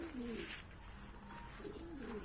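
Soft, low coos from SDR pigeons repeat a few times against a steady background hiss, fairly close and calm.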